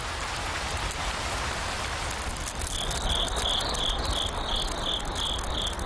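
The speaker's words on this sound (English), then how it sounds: "The heavy rain lasts all morning, only clearing up around noon." Heavy rain falls steadily as a dense, continuous hiss throughout, with a rhythmic chirping of insects rising over it in the second half.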